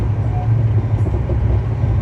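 Shalimar–Puri Superfast Express running at speed, heard from inside as a steady low rumble and roar of wheels and carriage noise that stays loud and continuous without a break.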